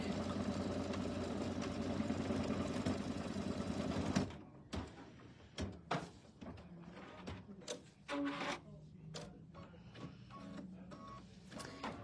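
An embroidery-style sewing machine stitches a placement line on quilt fabric, a dense fast mechanical whir for about four seconds that stops abruptly, followed by softer clicks and handling noises close by.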